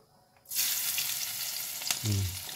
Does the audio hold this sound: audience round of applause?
no